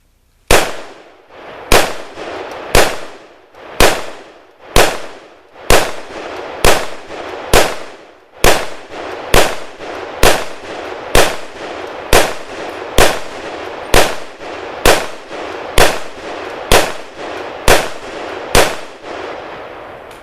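An M-14 EBR rifle fires reloaded ammunition: about seventeen loud, sharp shots at a steady pace of roughly one per second, each with a short decaying echo, and no talk between them.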